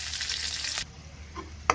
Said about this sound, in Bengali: দিয়ে দিলাম রসুন কুচি। এবার এগুলো ভালোভাবে ভেজে নিব।